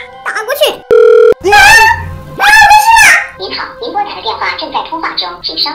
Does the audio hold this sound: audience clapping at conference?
no